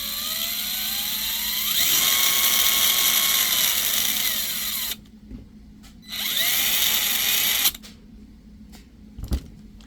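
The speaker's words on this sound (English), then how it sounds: "As far as the transmission, it's kind of noisy." Injora LCG RC car transmission running noisily, a loud high whine that climbs and falls in pitch, cuts out, returns for a second burst, then stops, with a couple of faint clicks afterward.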